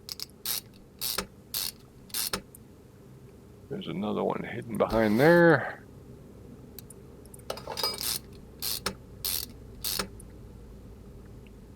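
Crankshaft bearing caps being fitted in Car Mechanic Simulator 2021: crisp, evenly spaced ratchet clicks come in short bursts before and after someone speaks briefly in the middle.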